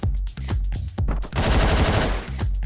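Rapid gunfire in the top-down action game Hotline Miami: a burst of sharp, loud shots, then a dense fusillade of automatic fire, with a few more single shots at the end.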